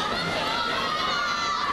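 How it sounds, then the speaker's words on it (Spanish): Arena crowd at a European gymnastics team final, a steady broad wash of applause and murmuring voices, loud and continuous throughout with no break. "los aplausos y el murmullo del público"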